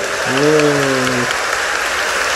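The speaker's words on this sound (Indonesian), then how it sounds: "tepuk tangan buat Maryam" Audience applause for a sick young girl named Maryam at a Jogja event, broadband and steady throughout, with a brief voice near the start.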